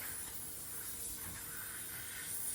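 Brief steady hiss of contact cleaner sprayed onto a motorcycle front tire bead (80/100-21) mounted on a Coats 220 tire machine, heard alone at close range.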